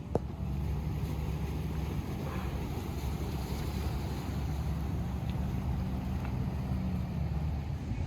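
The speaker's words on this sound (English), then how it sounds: "the boats are riding by, the waves are really swishing" Waves from passing boats swish against the shore in a steady, unbroken wash, mixed with a low engine-like hum and wind rumble that stay level throughout, with no talking.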